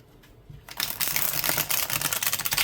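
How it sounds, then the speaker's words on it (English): A deck of 100 playing cards is riffle shuffled by hand: after a quiet start, a rapid close-up flurry of crisp card flicks rises and continues in quick ragged bursts. "this is not terribly hard for me to riffle shuffle"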